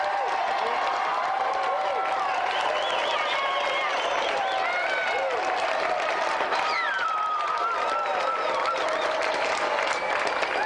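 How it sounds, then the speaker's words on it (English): A television studio audience applauds three volunteers on a game show, with dense, steady clapping and some cheering that carries on for about ten seconds. "let's have another round of applause for our three volunteers, Jack, Angela and Rashpal"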